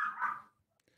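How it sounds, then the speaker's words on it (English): A single short dog bark or yip sounds close and fairly quiet, quickly followed by near silence with a faint trailing noise. "What did your dog say?"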